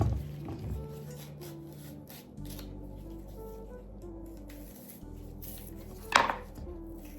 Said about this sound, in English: So right now we just have to start to cut and peel.